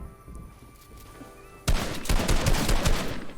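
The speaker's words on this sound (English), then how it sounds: "Beautiful window shots." Pump shotgun shots in a Fortnite FNCS Duos match burst in loud and close after a quieter opening, a rapid cluster of sharp blasts that keeps going to the end of the moment.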